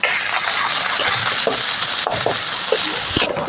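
Onions frying in hot oil with nigella seeds, a steady close sizzle with a few stirring scrapes and light clinks of a utensil against the pan.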